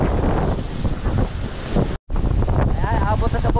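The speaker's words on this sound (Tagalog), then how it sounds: "Abot sa bubong yung alon eh." Storm waves and strong wind reaching a rooftop during flooding, a loud continuous roar buffeting the microphone with a brief dropout, wind rumble and surging water throughout, and a faint voice partly under the noise.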